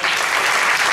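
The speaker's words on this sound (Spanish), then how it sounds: "Un aplauso para él también." Audience applause at a tribute festival concert in Leganés, a full, even roar of many hands clapping at once, loud and steady for the whole second.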